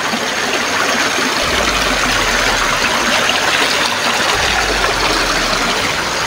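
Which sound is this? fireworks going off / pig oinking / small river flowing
small river flowing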